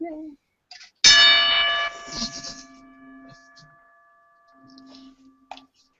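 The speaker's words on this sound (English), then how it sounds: "Bell." A single bright bell strike rings out and decays slowly over a couple of seconds, with quiet voices before and after.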